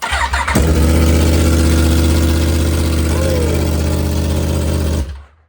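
A Yamaha R1 motorcycle engine fires up and settles into a loud, steady idle close by, running evenly for several seconds before cutting off abruptly.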